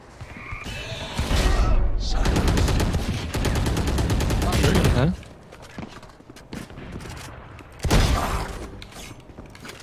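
Rapid bursts of gunfire in the tactical shooter Valorant, loud and dense for several seconds, then dropping away before a final burst, with a voice occasionally over the shots.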